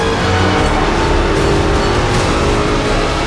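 A Ford GT40 race car roars at top speed, a loud continuous engine drone with wind rush that holds steady throughout.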